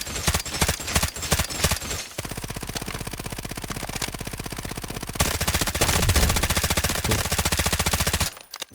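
Rapid automatic gunfire in the shooter game Delta Force, long sustained bursts of evenly spaced shots with a few single cracks at the start, loud and close, with no talk over it.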